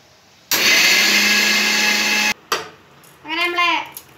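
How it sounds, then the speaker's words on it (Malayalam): An electric kitchen mixer grinder powders roasted gram flour for laddu in one loud, steady whirring burst of about two seconds, then a short blip, followed by a brief rising whine as it spins down. "അത് നമുക്ക് മിക്സിയിലിട്ട് കുറച്ച് കുറച്ചായിട്ട് ഒന്ന് പൊടിച്ചെടുത്തെടുക്കാം"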